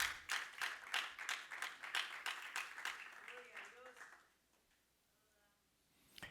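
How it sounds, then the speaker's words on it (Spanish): A church congregation claps rhythmically together in steady loud beats for about four seconds, then fades into quiet room tone. "Dale palmas al Señor"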